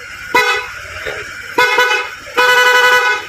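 Three blasts of a loud, harmonic dual horn on a Honda ADV 160 motorcycle sound close by, separated by pauses, with a faint engine hum underneath between honks.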